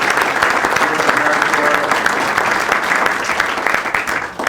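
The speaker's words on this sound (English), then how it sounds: "If we can give them a nice round of applause." A breakfast event crowd gives a dense, sustained round of applause that stays loud and even for the whole clip, with no other sounds on top, and only starts to thin out at the very end.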